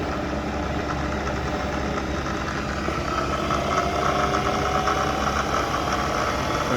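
Bridgeport Series 1 knee mill with a rebuilt 2HP head running in low gear, a steady loud motor and gearbox hum with constant mechanical whir and no pauses.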